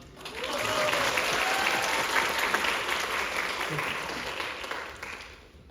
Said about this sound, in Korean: 우리 앙상블 배우들에게 다시 한번 큰 환호성과 박수를 부탁드립니다